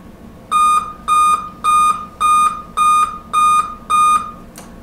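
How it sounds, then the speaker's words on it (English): Seven loud, evenly spaced electronic beeps, each about a third of a second long, sound from a Dell M5030 laptop that will not boot, signalling a processor failure error code. The beeps are clear, with no other sound around them. "it will give you the famous 7 beeps"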